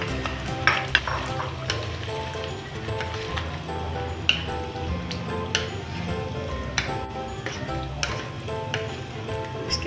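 Ghee sizzles steadily in a karahi for mutton, with a dense crackling bed and scattered sharp pops and spatters throughout, loud and close, with no voices.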